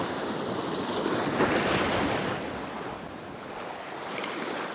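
Rough surf on Lake Superior washes in a continuous loud roar of breaking waves mixed with gusting wind buffeting the microphone, swelling and then easing slightly.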